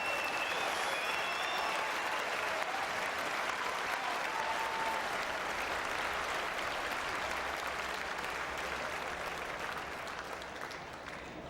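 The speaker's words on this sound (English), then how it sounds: "Crowd appreciating this great match" Sustained applause from a tennis crowd at a professional outdoor match, a dense steady wash of clapping that fades slightly toward the end.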